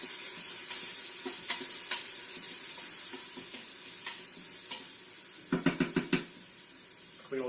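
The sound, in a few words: chicken sautéing in olive oil in an Instant Pot, stirred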